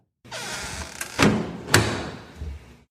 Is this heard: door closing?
yes